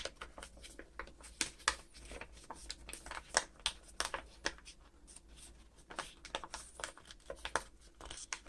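Paper being folded into an origami walrus, with crisp, intermittent crinkles and creasing rustles in uneven bursts, close and fairly quiet, no voices.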